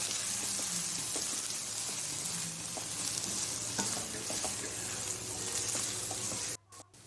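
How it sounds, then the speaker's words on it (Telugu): A scrambled fish mixture (sora puttu) fries in a pan over low to medium flame while being stirred, giving a steady sizzle with scraping stir strokes up close before it cuts off abruptly near the end; no talking. "ఒకసారి తిప్పి కలిపేసుకొని మనం మూత పెట్టుకోవాలి"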